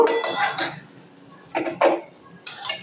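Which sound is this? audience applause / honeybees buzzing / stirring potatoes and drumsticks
stirring potatoes and drumsticks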